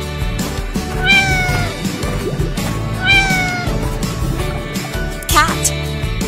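A cat meows three times, loud and close, with a drawn-out falling meow, a second matching one and a shorter sharp cry near the end, over a busy background, as part of an animal-sounds lesson with plastic toy animals.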